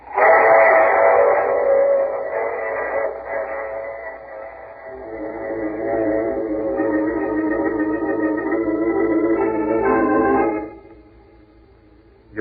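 A train whistle blows loud and sustained, with a wailing steam-whistle tone over rumbling rail noise. The whistle holds for about ten seconds before it cuts off and leaves faint low rumble, as in an old radio drama sound effect.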